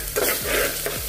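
Ginger garlic paste frying with browned onions for a soyabean biryani. Brief, close stirring scrapes sound over a continuous sizzle.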